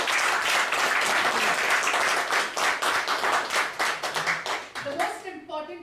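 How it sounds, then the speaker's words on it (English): A crowd at a Toastmasters club meeting gives a big round of applause, loud and dense hand clapping that holds steady, then thins and tapers off near the end as a voice begins to come through. "give a huge round of applause"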